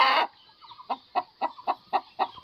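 A hen clucks close by, about seven short evenly spaced clucks after a brief burst of noise at the start.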